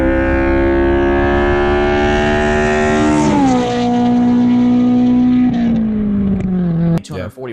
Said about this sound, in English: the engine sounds so great